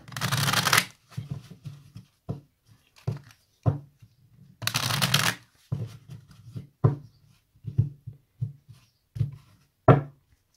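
Oracle cards shuffled by hand in repeated bursts, two long riffling sweeps alongside many short slaps and flicks in an uneven rhythm, close and fairly loud with no talking.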